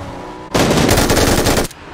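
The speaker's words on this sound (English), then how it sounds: "I'm getting shot by someone else." Loud, sustained burst of machine gun fire in PUBG, a dense rapid stream of shots lasting over a second that starts and stops abruptly, close to the listener.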